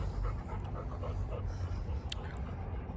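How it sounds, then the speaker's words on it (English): Quick, rhythmic panting from a small dog, close by and fairly quiet, continuing steadily throughout. "Cuddly puppy."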